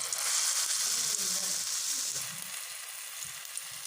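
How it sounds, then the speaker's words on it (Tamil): Batter-dipped banana flower pieces deep fry in hot oil for banana flower chili, making a loud, continuous close-up sizzle and hiss that eases slightly toward the end, with faint low sounds beneath. "இப்போ அதை அப்படியே ஆயிலில் ஃப்ரை பண்ணிடலாம்."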